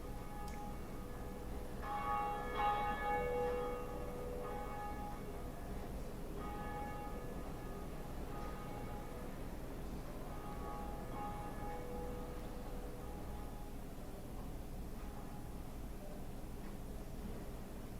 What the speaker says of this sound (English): So, we rung the first Bell of Awakening.